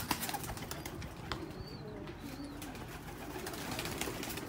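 Pigeons of the Ferozpuri breed at a bird dealer's, with faint cooing and soft wing flutters rising over a steady background hum and bustle, no voices.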